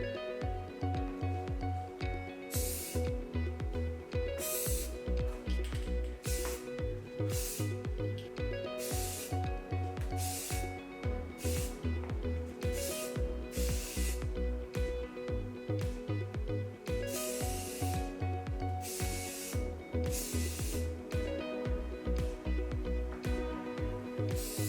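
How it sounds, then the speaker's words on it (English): Short, irregular hissing bursts of spray paint coating a GMMK PRO keyboard case, repeating over about 25 seconds on top of steady rhythmic background music. "Make sure to shake up your spray paint for a good minute, and you'll see here for my first coat I applied a very light coat."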